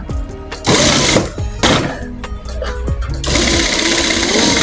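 A sewing machine stitches a pillow cover, loud and close, its rapid mechanical chatter running in bursts with short pauses and then continuing steadily.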